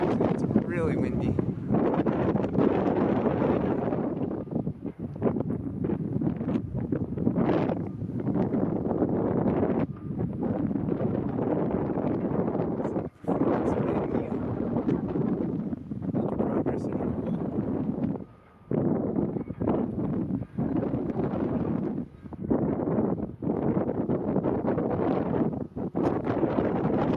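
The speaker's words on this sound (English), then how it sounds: "south of the stadium, it's pretty windy today." Strong wind blows above a parking garage at the SoFi Stadium construction site, buffeting the microphone with a heavy, continuous low rumble. Gusts rise and fall throughout nearly half a minute, with only a few brief lulls.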